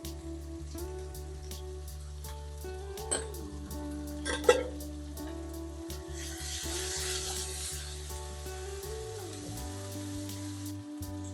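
Sliced onions with a pinch of salt are stirred and sautéed in a pan for a Kerala-style chickpea curry, making a soft, quiet hiss with light scraping and a few brief clinks, alone and close.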